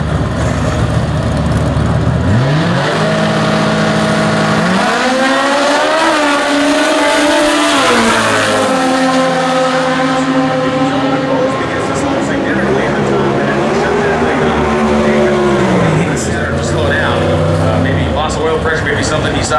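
Comp Eliminator drag racing cars at the US Nationals in Indy: loud engines rev hard and launch, climbing in pitch in repeated surges, with an announcer talking over the roar.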